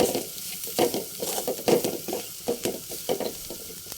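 Spice powder frying in a pan while being stirred: close, rhythmic scraping strokes come roughly every half second over a constant crackling sizzle, with no speech.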